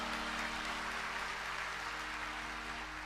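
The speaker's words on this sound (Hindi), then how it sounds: "बजाइए ताली" Audience applause during a Sunderkand devotional recital, a steady, fairly distant wash of many hands clapping over a low background hum, continuing for about three seconds.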